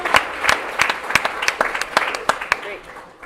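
Audience applause at an arts awards ceremony for elected officials, with a crowd clapping in sharp, uneven bursts that thin out and fade toward the end, with voices mixed in beneath.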